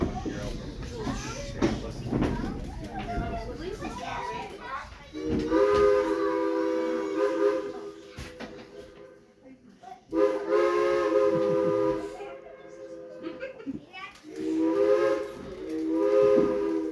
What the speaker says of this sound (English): we hear that engine whistle back